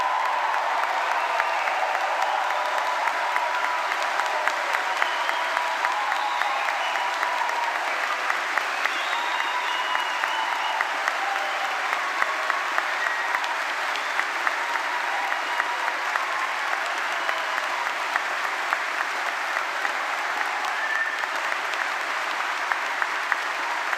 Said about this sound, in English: Please will you all join me in giving all of our new Exeter graduates a very loud round of applause.